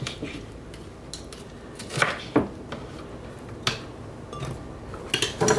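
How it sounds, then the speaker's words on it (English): A knife cuts cored red peppers into chunks on a board, with scattered sharp taps and clicks spaced irregularly, some louder than others, against a quiet kitchen background. "Then cut them into chunks."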